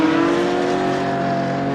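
A lapped Porsche Cup race car at Road Atlanta drones past on track, a loud, steady engine note with a slightly falling pitch and no speech.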